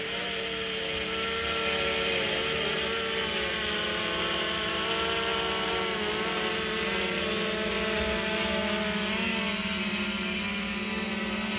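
A Fimi X8 SE drone hovering and adjusting during a precision landing, its propellers giving a constant whining buzz with layered tonal harmonics, steady and close for the whole stretch.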